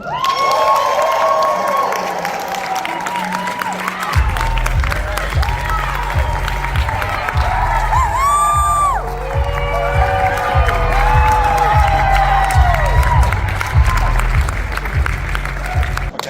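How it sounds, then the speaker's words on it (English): Crowd applause and cheering greet people coming on stage at a product launch event in Nevada, with whoops and shouts over the clapping and a pulsing music track kicking in a few seconds later and running beneath the noise. "can I get a big round of applause and a welcome"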